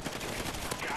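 Rapid gunfire from the video game Call of Duty Ghosts, a dense, continuous burst of shots lasting about a second, loud and close, with a faint voice mixed in.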